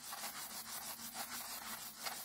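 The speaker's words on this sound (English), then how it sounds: "And my little sanding tool is right there. So. It looks like a sponge." A coarse sanding sponge rubs back and forth across a surface in quick, steady strokes, a close, dry scratchy rasp that repeats evenly with no voices.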